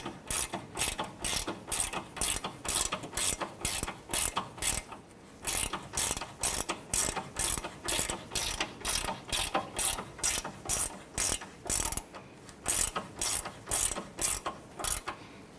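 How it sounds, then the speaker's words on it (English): A ratchet tightens the end link nut on the front suspension of a 2008–2012 Honda Accord during a lower control arm bushing job, giving steady rapid clicking bursts in close repeated strokes with brief pauses between runs. "Let's go ahead and tighten down our end link nut here."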